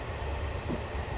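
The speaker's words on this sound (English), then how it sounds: "And there goes the rest of the train's audio." A British Rail GT3 locomotive rolls along the Woodhead Line with a steady, dense rumble and hiss that holds even throughout.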